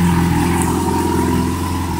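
A Yamaha FZ6 motorcycle engine idles steadily up close during carburetor synchronisation, a constant low mechanical drone with no talk.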